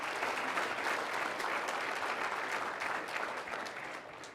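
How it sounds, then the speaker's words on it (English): A room full of people applauds at a high school athlete's college signing ceremony, a steady wash of clapping that stays fairly quiet and distant and tapers slightly toward the end. "So round of applause for his academic success."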